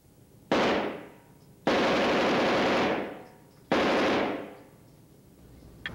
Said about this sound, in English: Under the wet firing conditions, you notice that the self-contained firing unit does exactly what the patent says.